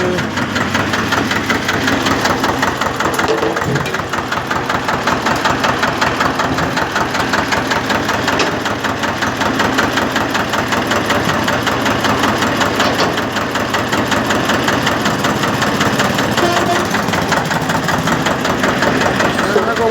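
A tractor engine idles steadily nearby, a loud, even chugging drone that never changes pace for the whole stretch.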